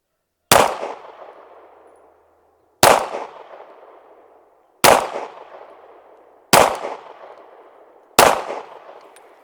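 Five loud, separate shots from a Derya Arms Dy9z firearm ring out about two seconds apart, each a sharp crack with a short echoing tail and silence between.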